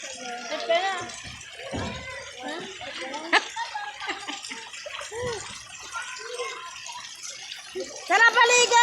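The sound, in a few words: child bathing, splashing in warm bath water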